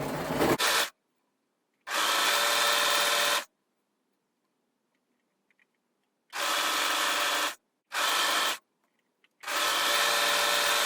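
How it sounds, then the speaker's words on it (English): An overlocker stitches the edges of fabric caftan ties, sewing the two sides together in four loud, steady whirring bursts separated by silent pauses, with no talking. "you need to make sure that your overlocker isn't just overcast in the edge, it's sewing as well"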